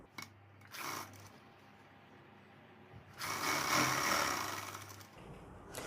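A sewing machine stitches folded blouse fabric in two short mechanical runs, a brief burst and then a longer steady whirr, quiet and close.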